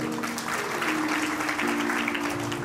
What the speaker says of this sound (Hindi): बढ़िया लग रहा था, ताली तो बजा दो।